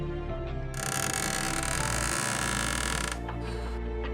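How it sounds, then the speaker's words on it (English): A creaking, ratcheting mechanism grinds loudly for a few seconds, followed by a brief hiss, like a heavy door being forced open. "followed by the sound of the door opening."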